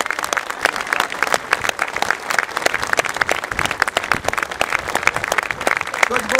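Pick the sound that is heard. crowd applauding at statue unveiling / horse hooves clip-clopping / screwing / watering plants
crowd applauding at statue unveiling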